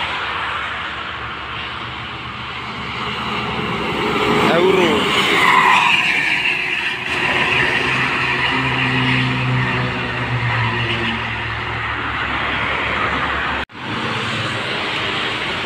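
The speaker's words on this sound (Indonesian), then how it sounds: "Bus ANS, bus keenam yang dari Sumbar," An ANS intercity bus from West Sumatra, bound for Jakarta on the Merak–Jakarta toll road, roars past with loud engine and tire noise that swells and then eases, while someone talks over it.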